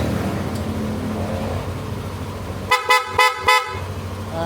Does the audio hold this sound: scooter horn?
yes